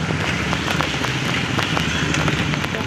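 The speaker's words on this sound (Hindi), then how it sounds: "आप देख सकते हैं रिम रिम बारिश हो रहा है, बहुत ज़ोर से बारिश नहीं है, तेज बारिश नहीं है, धीरे धीरे हो रहा है।" Light, gentle rain falls on a Mumbai street on a morning, making a steady, even hiss with faint scattered patter close by and no voices.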